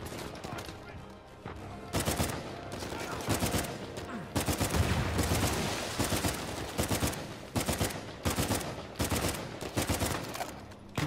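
Shotgun blasts in Uncharted 4, a video game, boom repeatedly at irregular intervals amid other gunfire and battle noise, loud and close, with someone talking in between.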